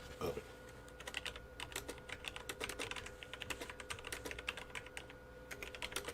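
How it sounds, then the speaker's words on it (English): Rapid, uneven keystrokes on a computer keyboard, close and clear over a low hum during a radio show, continuing in bursts with no talking. "I had to type."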